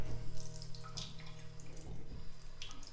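Water runs from a bathroom faucet in a new Las Vegas home under low pressure, producing a faint, steady trickle with light splashing in a quiet room.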